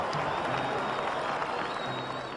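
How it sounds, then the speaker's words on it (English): Crowd applause and excited cheering following a Marcus Garvey address, a dense, steady roar of many hands clapping at close range that holds evenly throughout. "Garvey's address was met with great applause and much excitement"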